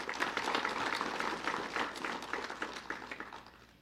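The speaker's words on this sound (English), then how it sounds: "And a round of applause for Independence Junior College." Applause from a debate audience in Belize City for Independence Junior College starts full and even, then thins into scattered claps that fade out near the end.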